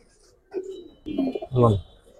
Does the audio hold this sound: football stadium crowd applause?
no